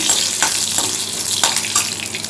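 Fennel and crushed garlic sauté with mustard seeds and urad dal in hot oil, giving a close, loud, continuous sizzle broken by a few scraping stirs.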